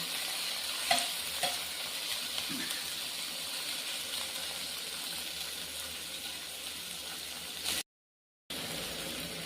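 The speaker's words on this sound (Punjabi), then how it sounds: "ਟਮਾਟਰ ਨੂੰ ਚੰਗੀ ਤਰ੍ਹਾਂ ਭੁੰਨਾਂਗੇ" Green tomatoes roast in a pan for a paneer Maggi masala, giving a steady close sizzle with a few clinks of stirring near the start. The sound cuts out briefly near the end, then resumes.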